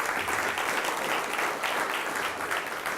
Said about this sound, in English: he deserves our applause